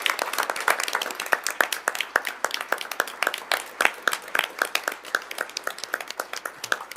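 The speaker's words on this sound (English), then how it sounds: "Let's give them another round of applause." An audience at a school board meeting claps for student singers, a dense round of hand claps, fairly close and sustained for several seconds before thinning out, with no talk over it.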